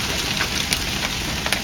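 Rain beginning to fall in an outdoor garden among potted hot pepper plants, a steady broadband patter with a few faint drop ticks, continuous and close, with no talking.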